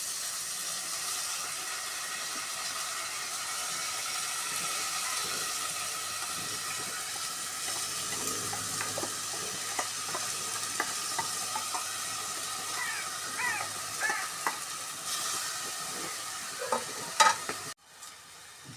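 Crushed, washed horse gram sautéing in a pan with sautéed ingredients for horse gram curry, a steady close sizzle with scattered stirring scrapes and clicks running throughout, no talking, ending in a brief clatter.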